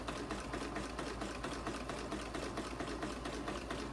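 Sewing machine fitted with a walking foot stitching at a steady pace, a continuous even mechanical whir with rapid needle rhythm, close and alone without speech.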